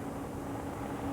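Touring cars from the British Touring Car Championship at Silverstone, including Ford, Vauxhall and Honda entries, revving together on the grid at the race start, a dense steady engine roar with a sustained drone and no talk over it.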